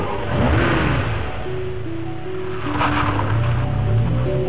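A car engine revs and accelerates in a Shell Helix motor oil commercial, a mid-pitched rising and falling drone heard over a continuous backdrop with no speech.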